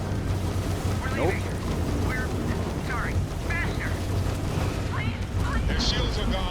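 Dense, continuous rumbling blasts fill a space battle in the game Starfield as a spaceship explodes, loud roaring noise with chirping weapon tones over it and a voice talking through it.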